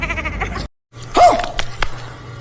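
A person mimics a goat's bleat on a busy city square during a reel shoot, one wavering nasal cry rising after a brief pause in the background bustle, with no words spoken.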